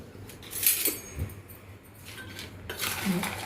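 A spoon stirs fried gram, peanuts and spice powder together in a metal pan for a sweet-spicy namkeen snack, giving intermittent close scraping and light clinks against the pan in short bursts.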